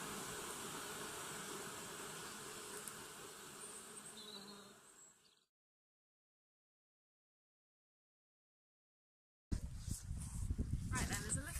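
Honeybees buzzing steadily around an open hive during a May inspection, a dense continuous hum that cuts out abruptly into silence, then resumes with handling noise and a voice.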